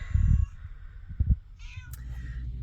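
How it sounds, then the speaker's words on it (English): A sick neighbourhood cat meows close by in a few short cries, with low rumbling noise and a brief sharper sound between them. "And that's the neighbor's sick cat."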